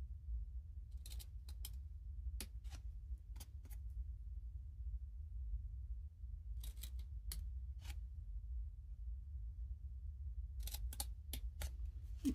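Scissors snip through paper while cutting along printed lines for a miniature craft, short crisp cuts arriving in small clusters of two to four against a quiet indoor hum.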